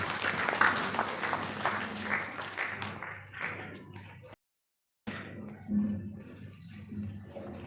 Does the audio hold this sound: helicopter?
no